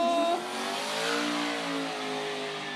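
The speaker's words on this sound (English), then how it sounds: "Bogger actually decided to do a burnout" A car's engine revs hard and steadily during a smoky burnout at a skid competition, loud and sustained with a rising, wavering pitch and no talk over it.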